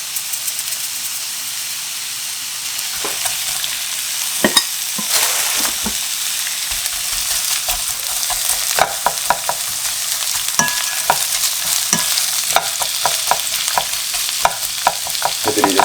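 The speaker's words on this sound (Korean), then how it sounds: "애들이 이제 충분히 단맛이 나올 때까지 볶아줄 거거든요" Onions with salt stir-fry slowly in a pan for a Philly cheesesteak, a steady hissing sizzle with a growing run of close spatula scrapes and clicks, no talking.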